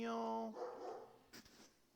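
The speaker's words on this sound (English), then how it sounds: "Sorry about the barking" A dog barks indoors: a short, loud whining bark at the start, then a voice talks over quieter room noise.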